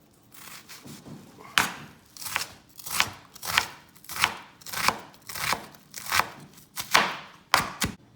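A knife slices half a sweet onion finely on a cutting board, giving a steady series of about a dozen crisp, evenly spaced chops close to the listener.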